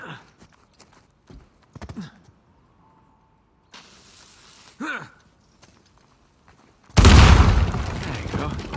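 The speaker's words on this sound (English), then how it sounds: "Hopefully we just blend in with the other explosions." A blast in the action-adventure video game Uncharted 4: A Thief's End bursts in near the end as a loud, broad roar that lingers, following scattered quieter game sounds and a few brief thuds.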